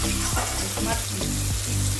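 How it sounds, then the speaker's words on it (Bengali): Tomatoes frying in a pan for suji upma, a dense crackling sizzle with rhythmic spatula strokes scraping the pan every fraction of a second, close and steady without speech. "টমাটারটা ভালো করে ভেজে নুন দেবো।"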